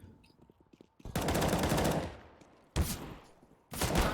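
Automatic gunfire in Counter-Strike on the Nuke map during an ESEA league match comes as three sharp, loud bursts, the first longest, separated by quieter game ambience.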